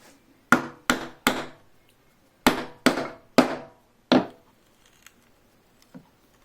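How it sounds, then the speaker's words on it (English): Chisel chopping a mortise for a wooden bow saw: a close series of sharp mallet-driven strikes, three quick hits, a pause, then four more, each a crisp woody knock with a short decay, followed by faint light taps. "you're chopping like this, the walls of the mortise support the chisel and keep it in the right spot"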